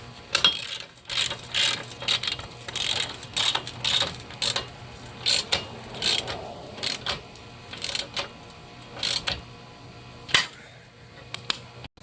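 A ratchet snugs engine mount bolts on a 2013-2016 Dodge Dart, with rapid clicking bursts that come in short repeated strokes, close and fairly crisp, with brief pauses between runs.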